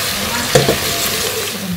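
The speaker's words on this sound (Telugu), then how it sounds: "ఆనియన్స్ చక్కగా బ్రౌన్ కలర్లో ఫ్రై అవ్వాలి." Onions fry in hot oil for a short, steady stretch of soft sizzling with a few stirring scrapes near the start, a brief cooking sound with no voices.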